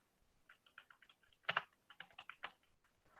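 Computer keyboard typing in a quiet room: a run of light, irregular keystrokes with a couple of louder clacks in the middle, close and isolated.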